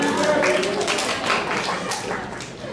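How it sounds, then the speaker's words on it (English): Audience applause at a school English-day speech contest, a short burst of clapping that starts full and gradually tapers off, with a speaker's voice over it. "Thank you for your applause."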